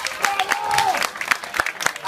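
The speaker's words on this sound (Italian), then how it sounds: "Facciamo un fortissimo applauso alla signora Anna" Live audience at a comedy show in Italy clapping for signora Anna, a dense patter of hand claps with crowd noise, while a voice carries on speaking over it.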